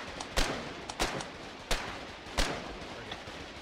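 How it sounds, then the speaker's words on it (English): Four sharp, evenly spaced gunshot cracks from a video game firefight, fairly loud over a steady hiss of background noise, with no voices heard. "Everyone open fire on them."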